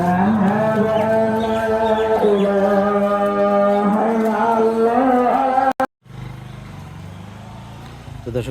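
Pregnant cattle on a farm in Naogaon moo loudly and close by in long, drawn-out calls for several seconds. The calls break off abruptly, leaving a quieter background of low farmyard noise.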